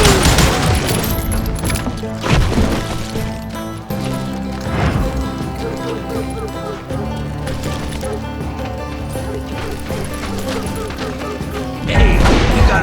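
Shootout in the Western video game Call of Juarez: Gunslinger, with repeated gunshots and heavy impacts over a steady music bed, a few louder bursts standing out across the scene.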